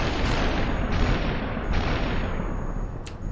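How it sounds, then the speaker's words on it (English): Gunfire in the video game SuperHot, heard as a dense, continuous roar of overlapping shots and blasts that stays loud throughout, with a few brighter cracks on top. "did you dodge all of those shots?"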